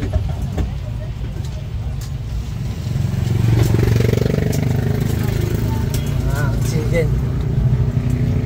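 Provincial road traffic with cars and motorcycles passing nearby, a steady engine rumble that swells and lingers while people talk over it.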